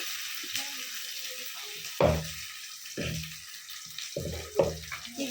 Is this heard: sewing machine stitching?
no